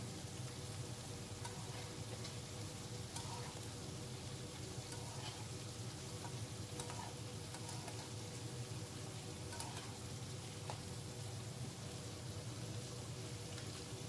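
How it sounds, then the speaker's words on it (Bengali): Fried okra (ladies' finger) is stirred into a sizzling, ready spice masala in a pan, a steady frying sizzle with occasional scraping stir sounds throughout and no talking. "এবারে দিয়ে দেবো আমার ভেজে রাখা ভেন্ডিগুলো, দিয়ে আবার ভালো করে নেড়ে চেড়ে নেব।"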